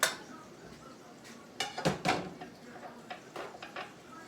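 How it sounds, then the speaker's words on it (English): Old Corelle dishes are handled in a home kitchen, giving several sharp clinks and clatters in quick clusters, close and fairly quiet, with no voices. "them old Corelle dishes"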